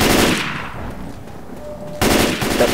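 Rapid automatic gunfire from the zombie shooter game Left 4 Dead 2 bursts loudly for half a second, drops to a lull with faint game sounds, then resumes as a dense, sustained volley near the end.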